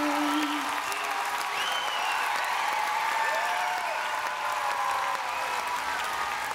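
An audience at a children's singing contest final applauds steadily, with scattered cheers and voices calling out over the continuous clapping.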